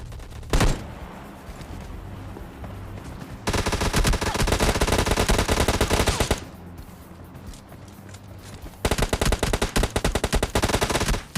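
Bursts of automatic gunfire from a shooter video game, loud sustained volleys of rapid shots in two long stretches with quieter game ambience and a single sharp shot between them.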